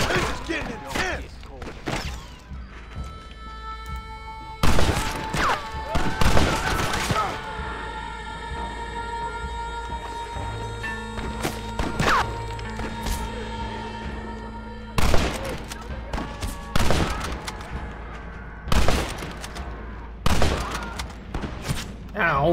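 Gunfire from a Red Dead Redemption shootout: loud single shots and short volleys at uneven intervals over a tonal music bed. Excited voices talk between and over the shots.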